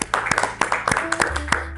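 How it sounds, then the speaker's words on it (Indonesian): A seated audience at an indoor photography law talk gives a brief burst of applause, a quick run of close, sharp hand claps with some voices mixed in. "kita kasih tepuk tangan."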